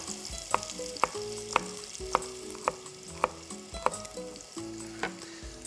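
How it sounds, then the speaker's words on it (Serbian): Bacon with chopped onion and garlic sizzles steadily in a pot, loud and close, while a spoon taps the pot in a regular rhythm about every half second as the mix is stirred; no voices. "koju ću također malo da propržim na ovom crnom i belom luku"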